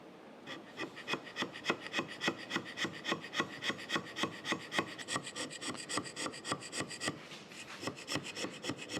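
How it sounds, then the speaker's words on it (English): Steady rhythmic strokes of a hand scraper across the cast-iron cross slide top of a Monarch 10EE lathe under restoration, each close, crisp rasping pass repeating at an even pace in a crosshatch pattern, with no voices. "We're scraping across the previous scrape marks."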